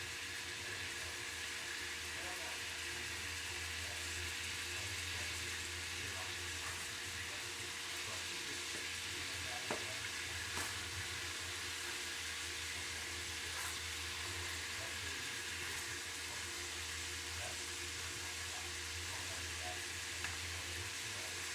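Chicken chorizo burgers fry in melted chorizo fat, giving a steady soft sizzle and light crackle throughout, fairly quiet and close, with no talk.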